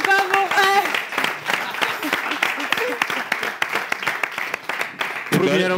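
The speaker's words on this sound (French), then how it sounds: "On applaudit encore pour eux." An audience applauds the dance group R2B at a live show, a dense wash of clapping that runs steadily through the clip, with a voice and some music briefly heard at the start and end.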